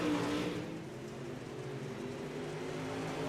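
Dirt track race cars on the UMP circuit at Lernerville roar in a steady, loud engine drone as the pack circles late in a race, the sound holding even throughout without a break.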